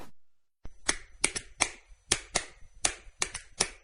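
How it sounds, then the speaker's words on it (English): Hands clapping with the Fan Hands sports fan accessory: about ten sharp, close claps in an uneven rhythm after a short silence, each a crisp crack, with no talk. "What's the universal language of a fan? Clapping your hands."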